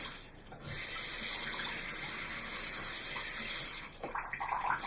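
Steady running water pours close by onto tissues, a continuous hissing flow, with a brief splash and change near the end.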